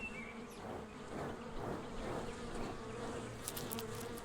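A dense swarm of honeybees hums steadily around their hive as they guard it against a death's head hawk moth, a continuous close buzz with no voices.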